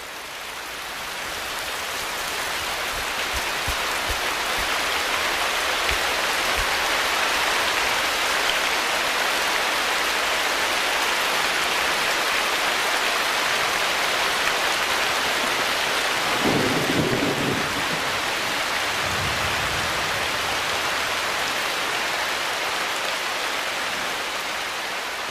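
Heavy rain pours down in a tropical Asian rainforest, a dense, constant hiss that holds at the same level throughout, with a couple of low rumbles of distant thunder partway through.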